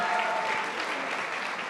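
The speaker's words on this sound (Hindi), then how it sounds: "एक बारी गुंजन सैनी के लिए जोर से ताली बजाएंगे." An audience at a fan meet claps, a dense, steady wash of applause that holds at an even level throughout.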